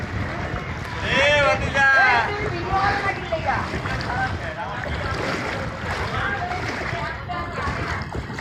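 Floodwater waves wash and slap against shopfronts on a rain-flooded street in Mirpur, Dhaka, a steady churning rush heard beneath loud, close voices talking throughout.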